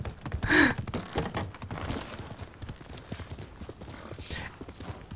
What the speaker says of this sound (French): Waouh, le saut du cheval.